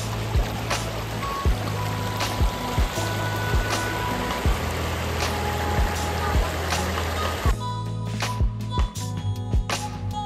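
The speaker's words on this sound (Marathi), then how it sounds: "इथे तुम्ही पाहू शकता असं वाहतं पाणी आहे." Water rushes steadily along the stream below Palasdhari waterfall during the monsoon, a continuous close wash broken by occasional thuds and knocks, with the flow thinning near the end.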